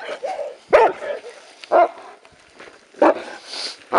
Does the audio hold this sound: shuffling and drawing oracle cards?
no